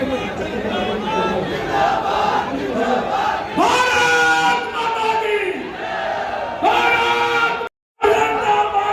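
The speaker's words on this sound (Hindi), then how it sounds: "देखिए भीड़ देखिए आप" A large crowd at a political welcome rally in Churu district shouts and cheers in rising, chant-like bursts of many voices, loud and close, swelling and falling several times before a brief dropout.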